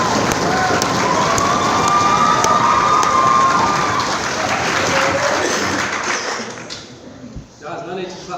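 A debate crowd applauds and cheers loudly for several seconds, with shouts mixed into the clapping, before the noise thins out and voices emerge.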